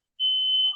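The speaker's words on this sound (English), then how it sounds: "there goes my smoke alarm for some weird reason" A smoke alarm sounds one short, steady high-pitched electronic beep lasting about half a second, loud and close, with no other sound around it.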